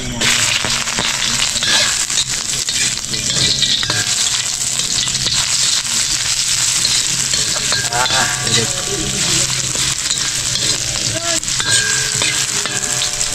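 Oil fries loudly and steadily in a pan as a freshly caught red bass is cooked, a dense continuous sizzle with stirring and scraping throughout and no talking.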